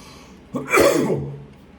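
A single short cough or throat-clearing burst, close and fairly loud, rising suddenly and fading over about a second at a shears-sharpening bench, with no talk.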